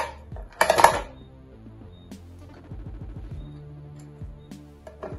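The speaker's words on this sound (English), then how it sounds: "Then I'm gonna add a few cubes of ice." Ice cubes clattering into a blender jar holding chilled mango soup, a loud burst of hard clinks near the start and then scattered lighter knocks and rattles.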